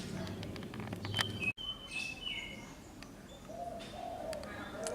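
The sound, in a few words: zebra dove or spotted dove cooing above a house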